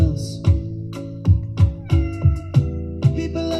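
A cat meows over and over in a quick series of short calls, about eight in under four seconds, close and fairly loud with nothing else behind it.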